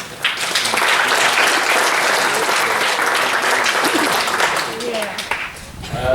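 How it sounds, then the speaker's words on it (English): An audience at the TEC 86th Annual Meeting gives another round of applause for a cooperative's fiber build-out. Strong, sustained crowd clapping swells quickly and holds, easing slightly near the end, with some voices mixed in. "I think they deserve another round of applause"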